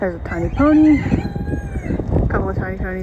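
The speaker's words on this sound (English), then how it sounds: "I just heard a rooster crow." A rooster gives one loud, drawn-out crow close by while someone talks over the farmyard noise, heard on a coastal hike from Land's End to Lamorna.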